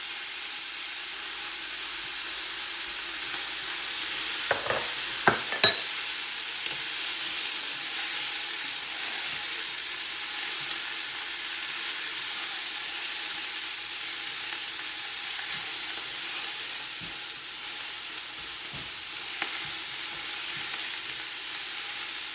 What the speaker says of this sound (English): Stir that around until your onions and your garlic are kind of translucent.